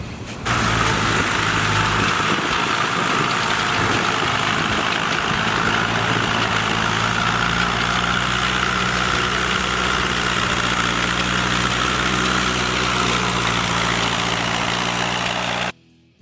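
A crawler's engine runs after a carburetor jet adjustment, catching almost at once and then idling in a loud, steady rumble for about fifteen seconds before cutting off abruptly.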